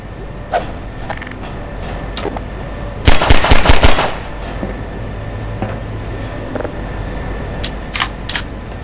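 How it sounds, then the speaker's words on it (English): A rapid automatic burst of about six gunshots erupts loud and close in the Half-Life 2 video game, surrounded by a steady game ambience and a few scattered sharp pops before and after. "Hey, who's shooting me?"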